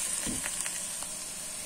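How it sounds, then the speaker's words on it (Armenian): Chopped garlic fries in a pan, giving a soft, continuous sizzle with a few light stirring taps and crackles near the start, fairly quiet and close, with no talk. "կտրատում եմ մանրահայ սխտորը, ավելացնում եմ նաև սխտորը, սա ևս տապակում ենք"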